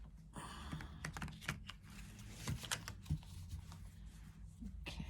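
Astrology cards are shuffled by hand, giving soft, irregular clicks and riffles close by and fairly quiet, with no talking.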